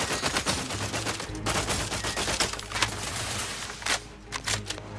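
Rapid automatic weapon fire from a sci-fi shooter game, dense bursts of shots rattling continuously and loudly with a few brief pauses, over a low steady game soundscape.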